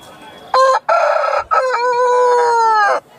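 A loud Aseel rooster at the Balrampur chicken market in West Bengal crows close by: a short opening burst, then a long, strained, drawn-out cock-a-doodle-doo lasting over two seconds.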